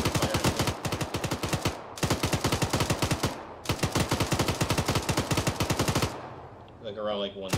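Sustained automatic gunfire from a military firefight in Arma 3, long rapid bursts with only brief pauses, loud and close, ending in a quieter tail with faint background sounds.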